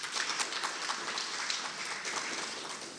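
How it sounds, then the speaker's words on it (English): A conference audience at a capital markets plan launch gives a steady round of applause, dense even clapping filling the hall for three seconds without pause, fairly distant and moderately loud. "Can I have an additional round of applause for Keith?"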